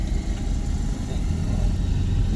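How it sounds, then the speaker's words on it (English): Car driving along Vernon street near Wood on a daytime outing, a steady low engine drone and road rumble from inside the car, continuous and fairly loud, with no clear talk. "I'm driving over here now."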